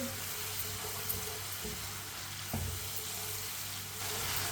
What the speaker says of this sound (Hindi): पानी डाल के अच्छी तरह मिक्स कर लेंगे।